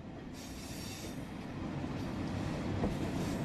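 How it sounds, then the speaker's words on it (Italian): A train slowing on the line, a continuous rumbling roll of wheels on rails with a faint hiss and squeal on top, growing slightly louder toward the end. "In questo momento il treno sta rallentando."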